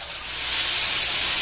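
Sausage charring in a pan while red beans are being cooked: a steady, fairly loud sizzling hiss that swells over the first half second and then holds evenly close by.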